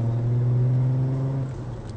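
A Mk4 VW Golf R32 with a Milltek exhaust gives a deep, steady engine drone under acceleration, heard close from inside the car, then the note eases off and falls lower near the end.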